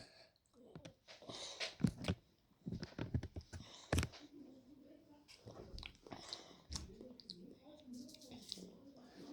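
Crunchy bites and chewing of a Minecraft-themed ice cream with a nutty-tasting top and chocolate centre come as several short crisp bursts, close up, mixed in among a person's talking.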